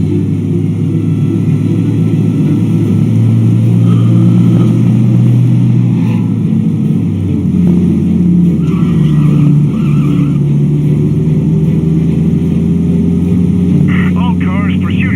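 A 1930s-style car engine roaring at speed during a police chase in the Mafia: Definitive Edition game, a loud, continuous drone with shifting pitch under occasional voices.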